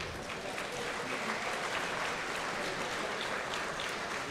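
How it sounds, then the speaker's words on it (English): A crowd claps at a speedway awards night. The applause is steady and dense, without a break, and sounds moderately distant and fairly soft. "Let's give them one more round of applause."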